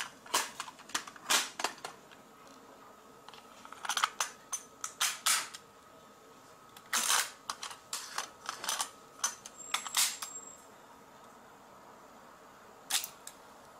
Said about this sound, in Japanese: それではテープを実際にかけてみましょう。